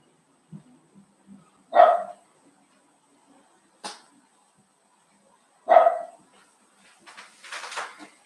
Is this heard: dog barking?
yes